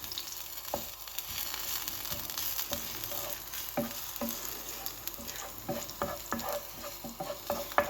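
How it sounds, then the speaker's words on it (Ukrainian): Pumpkin frying in oil in a pan, a steady soft sizzle with scattered pops and stirring scrapes as pieces are turned, heard close and alone. "сюди на бік сковорідки і викладаю гарбуз, обсмажую гарбуз"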